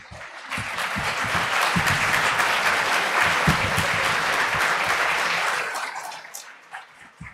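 Round of applause from an audience at a London School of Economics talk, swelling quickly into dense clapping, holding strongly, then tapering off into scattered claps at the end.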